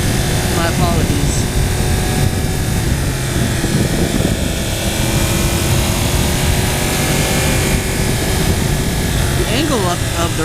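A 2015 Yamaha R1 sport motorcycle engine on a racetrack, a steady loud droning roar with wind rush running unbroken throughout, up close, with a rider talking over it.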